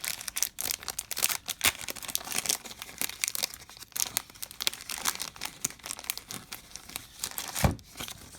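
Clear plastic resealable PSA-size graded card sleeve from Collect Save Protect, crinkling and crackling steadily as it is handled close up, with sharper crunchy bursts and one louder snap near the end, no voices.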